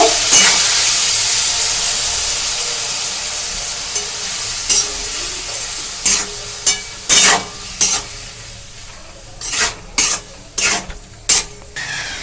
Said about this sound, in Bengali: এবার এটা মিশিয়ে নেব